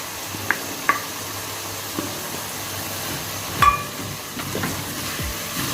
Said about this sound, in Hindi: अब हम इनको अच्छा सा मिक्स करेंगे।